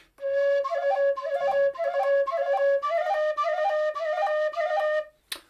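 A Weston tin whistle played in its low octave, a clear, breathy melody of repeated short phrases, close and fairly loud, ending with a brief noisy puff.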